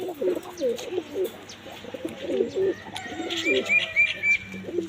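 Pigeons at a breeding and sale loft coo in repeated low, throaty bursts, close and fairly loud, with a few higher chirps later and no talking.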